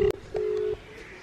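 Phone call tones on a mobile video call that nobody picks up: a short steady beep, a gap, then a longer sustained tone, clear and alone with no talking.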